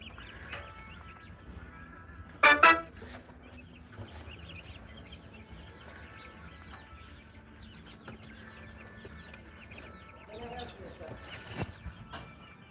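Baby turkeys and other poultry at a feed store chirp and cluck faintly. A sharp clatter sounds early on and soft voices murmur in the background.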